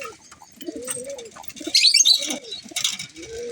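Fighter pigeons, including a black Kala Patez and a Kabra, coo in low, repeated rolling phrases close by, with a few soft wing flaps and faint chirps mixed in and no talking.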